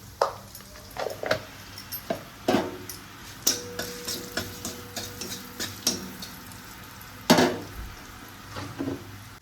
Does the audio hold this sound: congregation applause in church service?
no